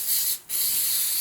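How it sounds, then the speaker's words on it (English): Spray starch hisses onto linen set out for ironing in two close, sharp bursts separated by a brief pause, loud and near. "so I'm going to use some spray starch"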